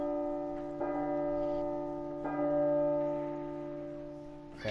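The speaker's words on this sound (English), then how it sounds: "I'm gonna wait until the bell finishes ringing" A clock bell tolls in a video game, two clear resonant strikes with a long ringing hum sustained between them, loud and close, followed by a third strike starting right at the end.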